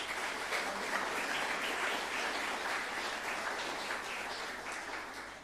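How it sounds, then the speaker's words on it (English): Audience applause fills a school sports awards ceremony, a steady, dense wash of clapping from a large crowd that holds at an even level throughout, with no voices standing out. "we can all clap you."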